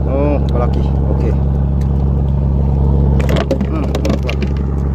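Steady low boat engine droning on the water at a fishing spot, loud and continuous, with people talking over it throughout.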